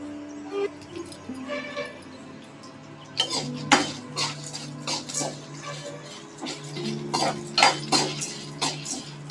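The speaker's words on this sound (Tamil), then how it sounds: "இது சேர்த்து நல்லா வறுக்கணும்" A spoon scrapes and clinks against a pan as urad dal and dried red chillies roast, in bursts of stirring that grow busier after a quieter start, with no talking.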